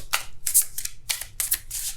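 Tarot cards being shuffled by hand in a series of crisp riffling bursts, about six quick flutters with short pauses between, close and fairly loud, no voices.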